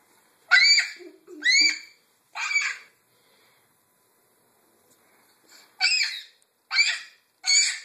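A pet bird calls in six short, bright bursts, three in quick succession, a pause, then three more, close by and fairly loud with no talking over them.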